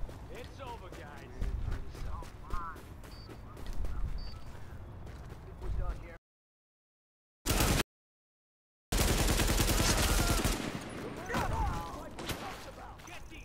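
Rapid bursts of gunfire from the online shooter The Division crackle under players' voice chat, cutting out briefly to silence before resuming at full, dense volume.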